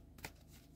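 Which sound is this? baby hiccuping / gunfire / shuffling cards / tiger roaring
shuffling cards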